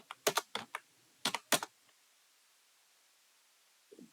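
Close, crisp keystrokes on a computer keyboard come in two short bursts of quick taps during coding, then stop, with a quiet pause and a faint soft sound at the end.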